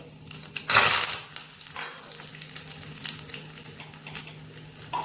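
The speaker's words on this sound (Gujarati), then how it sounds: "આપણે હવે એનો વઘાર કરશું।" Mustard seeds, cumin, dried red chillies and curry leaves are tempered in hot oil for Gujarati dal dhokli. A loud burst of sizzling and crackling gives way to a steady, close frying hiss, with no talking.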